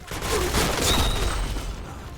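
A G11 rifle fires in a video game as a quick burst of shots, moderately loud, lasting about two seconds with some background game noise.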